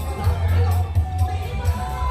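Spectators cheer at the Phitsanulok royal trophy long-boat race in Thailand, a loud surging crowd with rhythmic swells under a low rumble, while someone talks over it.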